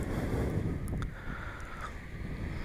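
Wind blows on a sunny, partly cloudy beach by the Indian Ocean at Bunbury, a steady rushing roar with gusty buffeting against the microphone, loud and continuous with no voices.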